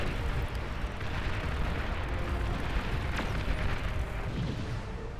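Dense, continuous rumble of bombing explosions in the real-time strategy game Beyond All Reason, a steady roar of overlapping blasts with one sharper crack near the middle.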